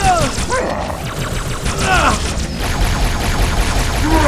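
Rapid bursts of Halo 2 gunfire crackle over a dense, loud action soundtrack, with shots repeating in quick clusters.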